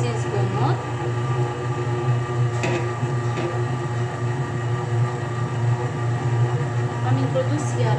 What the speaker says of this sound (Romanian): Pornesc storcătorul